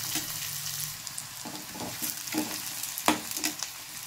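Chopped pieces fry in a hot pan for a sprouted-bean sambar, giving a steady crackling sizzle with a few soft stirring scrapes and one sharp clatter near the end.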